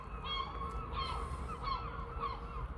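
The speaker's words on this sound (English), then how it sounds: "If you can hear us over the bloody seagulls, I swear to God." Seagulls calling repeatedly on the seafront at Sunderland, a series of harsh, honking cries in short bursts at moderate distance over a steady background rumble.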